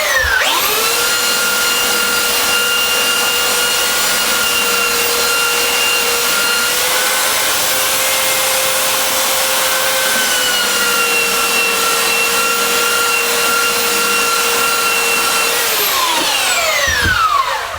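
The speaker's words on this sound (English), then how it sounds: "So now we're going to sand off that red and that blue that I did earlier." A rough power sander with 40 or 50 grit paper grinds acrylic paint off a surface. The loud, continuous whirring drone runs for about sixteen seconds, then winds down at the end.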